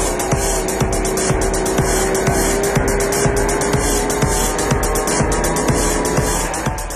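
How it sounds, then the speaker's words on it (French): S3000 racing powerboats with 300 hp engines on Lac d'Allier roar loudly and steadily, a sustained high-pitched engine whine holding throughout with a constant rough drone underneath. "Ces drôles d'engins, les S3000, sont tout simplement les bateaux les plus rapides sur l'eau."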